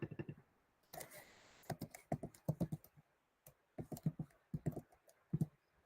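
Typing on a computer keyboard, close and crisp, with keystrokes in quick irregular clusters separated by short pauses and no voices.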